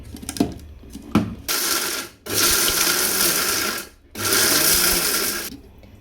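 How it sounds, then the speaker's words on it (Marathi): A kitchen mixer grinder pulverises makhana (fox nuts) into fine powder in loud, whirring bursts: two brief pulses, then two long sustained runs separated by a short pause, with no talking. "मखाना घेतलेला आहे त्यालाही आता मिक्सरमधून मी बारीक करून घेणार आहे"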